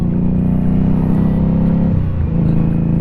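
2017 Indian Scout motorcycle on the move, a loud, close engine drone with a low steady tone that shifts down in pitch partway through as the ride continues.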